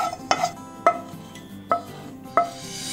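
Sesame seeds roast in a pan for chakli masala while a utensil stirs them, giving four evenly spaced scraping strokes over a faint background sizzle.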